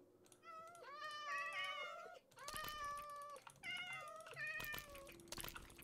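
Meows from tamed cats in Minecraft, several high, wavering calls in quick succession, some overlapping, with brief gaps and faint clicking underneath.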